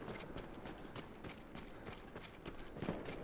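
A horse gallops in a video game, its hoofbeats a rapid, steady clip-clop under a dense, noisy game soundscape, fairly quiet throughout.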